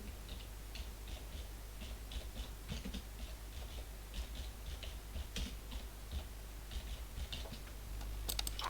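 Quiet, regular keystrokes on a computer keyboard as a folder name is typed, a soft steady run of clicks over a low background hum, with no speech.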